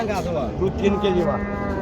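A red Deshi or Sahiwal cow with her calf at the Raniganj cattle market moos once, a close, drawn-out low call with rising and falling tone over faint market background.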